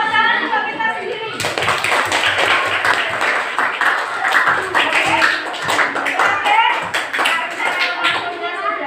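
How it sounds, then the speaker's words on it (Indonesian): A Year 6 primary school class claps for themselves in a classroom, loud, close, rapid hand claps that start abruptly and continue with voices mixed in. "Tepuk tangan untuk kita sendiri."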